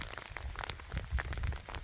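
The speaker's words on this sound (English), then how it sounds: "It is ice cold rain now." Ice cold rain falls on a mountain trail, a dense patter of drops striking nearby surfaces, steady and close, with no talk.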